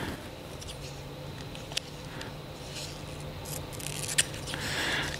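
A few sharp snips of scissors cut through something inside a Porsche 997.2 GT3 RS car interior against a quiet background, with occasional faint rustling.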